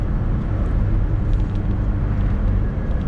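A Honda S2000 sports car drives a road around Horsetooth Reservoir near Fort Collins, Colorado, with a steady, loud, close engine and road rumble throughout and no speech.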